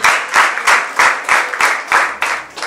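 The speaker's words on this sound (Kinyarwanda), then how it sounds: "Amashyi." A crowd at a church wedding ceremony claps in a steady, rhythmic beat of about eight loud, close claps in unison, with no talk over it.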